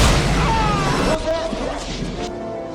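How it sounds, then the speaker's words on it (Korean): A grenade explodes in a movie scene, a loud close boom at the start with a long roaring decay that thins out over a couple of seconds. "죽으며 떨어뜨린 수류탄이 그만."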